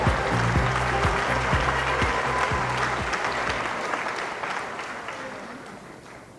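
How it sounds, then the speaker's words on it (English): An audience applauds at the 2007 Miss New Jersey pageant with dense, sustained clapping that slowly fades, without any talking. "round of applause for all of the ladies this evening."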